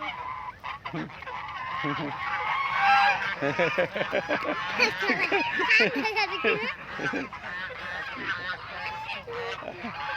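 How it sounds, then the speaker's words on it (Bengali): A flock of ducks by a river calls in dense, overlapping honks and quacks, loud and close. Voices talk through the birds' calls. "এই যে হাঁসগুলা দেখতেছি, উপরে ছাগল আছে।"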